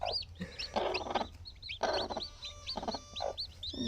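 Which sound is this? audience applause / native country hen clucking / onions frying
native country hen clucking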